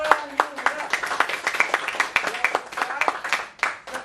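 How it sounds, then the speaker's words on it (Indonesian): A classroom of students gives a round of applause during a lesson: irregular, fairly close hand claps in a scattered patter for about four seconds, with faint voices mixed in. "Beri tepuk tangan dulu buat"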